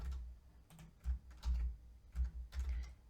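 Computer keyboard typing and shortcut key presses while setting up a rubric in an online learning system, a few soft, uneven taps and thumps close by, quiet with no talk.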